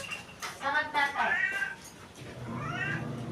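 A cat gives several drawn-out meows in quick succession near the listener, then a final longer meow after a short pause.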